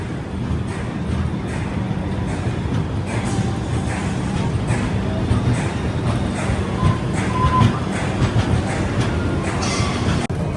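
Rayalaseema Superfast Express departing Tirupati, a steady low rumble of rolling rail cars with faint wheel clatter filling the whole stretch at an even level, with no voices over it.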